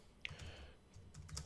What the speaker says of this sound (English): we're going to type in social media marketing